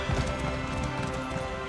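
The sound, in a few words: horses galloping in video game Elder Scrolls Online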